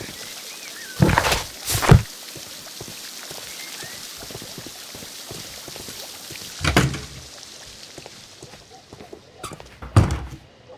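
Heavy wooden doors thud and slam shut in a Sherlock Holmes video game. There are several loud, close bangs, two in quick succession, then more after gaps, over a quiet ambient hiss.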